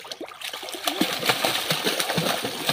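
A child learning to swim in a pond splashes the water close by in quick irregular slaps and sloshes, a busy continuous patter of churning water with no talk.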